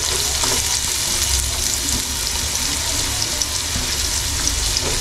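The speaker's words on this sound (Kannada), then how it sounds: "ಈರುಳ್ಳಿನ ಗೋಲ್ಡಿಶ್ ಬರೋಗಂಟ ಅದನ್ನು ಸ್ವಲ್ಪ ಫ್ರೈ ಮಾಡ್ಕೋಬೇಕು" Onions fry in hot oil in a pan for a hotel-style country chicken dish, giving a dense, continuous sizzle and hiss that stays loud and steady throughout.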